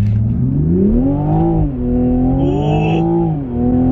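A 2019 Toyota GR Supra accelerating hard on a public road, its engine note rising steadily through the revs with a brief dip at a gear change before climbing again, loud and close from inside the car.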